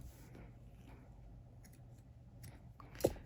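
Scissors snip off a crochet yarn end in a tapestry crochet piece, one faint, crisp cut near the end after quiet handling noise.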